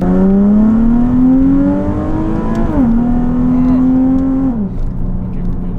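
A Nissan 370Z engine revs up loud and close, the pitch climbing steadily, dipping briefly, then climbing again before dropping off near the end.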